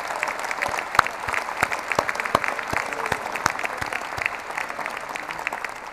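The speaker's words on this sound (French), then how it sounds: "On peut l'applaudir également." At a civic New Year's greetings ceremony in Dijon, an audience applauds the sign language interpreter, crisp individual claps close by standing out over a steady background of crowd clapping.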